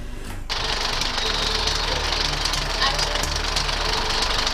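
Moviola film editing machine starting up after a brief pause, then running with a steady loud mechanical clatter and rhythmic whirring hum that continues unbroken to the end.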